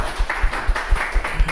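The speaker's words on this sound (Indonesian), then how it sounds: "Tepuk tangan dong buat teman adik-adik 17" Crowd applause at a school stage festival for the 2017 class of broadcast graphics students, a steady wash of clapping with a slightly rhythmic pulse, fairly close and moderately loud.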